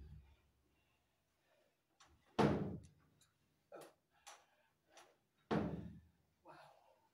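A household door and its lock are handled in a quiet room, with a couple of firm knocks or thuds and several small clicks and rattles spread out between them.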